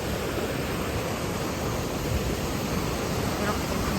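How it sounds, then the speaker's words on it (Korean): Datanla waterfall near Dalat, Vietnam, roars as a steady, dense wash of rushing water that holds evenly loud throughout, with no breaks or distinct splashes. "이게 다단나 폭포인가 봐요."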